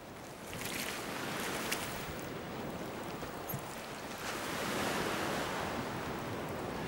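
Surf washing onto a beach in Trinidad where leatherback turtles come ashore, a continuous broad roar of breaking waves with wind noise, swelling slightly louder toward the end.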